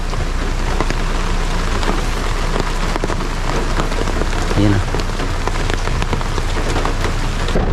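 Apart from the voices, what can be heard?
heavy rain on a car while driving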